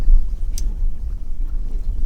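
A sailing boat glides under sail on Loch Craignish, steady low wind rumble and buffeting against the microphone with a faint splash, no engine.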